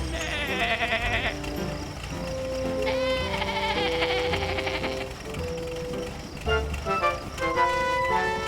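Cartoon sheep bleat over bright background music in an animated children's show, the wavering bleats repeating several times across the stretch.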